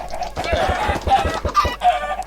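Chickens in the Minecraft video game cluck in short, quick bursts, a rapid series of clipped game-sound clucks heard alone without talk.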